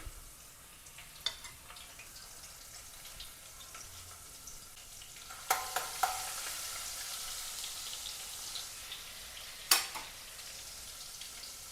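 Garlic-chili paste fries in oil with cumin seeds, giving a faint, steady sizzle broken by a few sharp spatters and clicks. It is quiet and has no voices.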